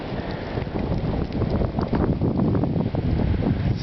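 Strong wind roars and gusts during a Connecticut snow blizzard, a loud, continuous rushing with buffeting bursts against the microphone, heard alone with no talk.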